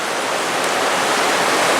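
Rainbow Falls in Gorges State Park gives a steady, loud, broadband roar of falling water with no breaks or voices.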